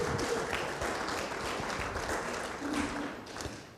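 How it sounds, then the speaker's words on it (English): An audience at a Safe Streets event applauds as the executive director takes the stage, giving a short burst of steady clapping that fades toward the end. "She loves that applause"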